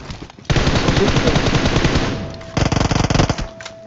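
Rapid bursts of automatic gunfire in PUBG, loud and sustained, with a brief lull before another fast rattling volley.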